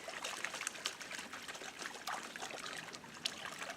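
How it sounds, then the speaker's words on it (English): Water sloshes and trickles in a gold pan as material is worked during crevicing for gold, a soft, continuous splashing with small irregular surges, fairly faint and with no voices. "Be really aggressive with your water and always able to see your pan's edge so you know your material is staying in your pan."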